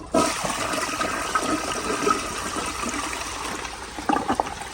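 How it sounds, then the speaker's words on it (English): A 2001 Crane Plumbing Rexmont elongated toilet flushes with a loud, steady rush of water from start to finish, then settles into gurgling and trickling as the bowl refills. "Let me give you another flush like this."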